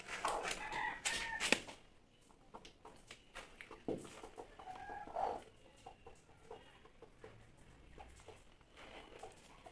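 A brooding hen sitting on a clutch of eggs on a small poultry farm clucks close by in short bursts, with faint background noise between the calls.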